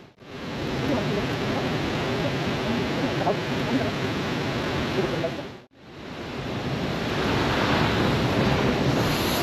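Water crashing down at Sepli waterfall (Sepli Jharana) in Nepal, a loud, steady broadband roar close to the microphone with wind buffeting, briefly cut off near the middle and then resuming just as strong.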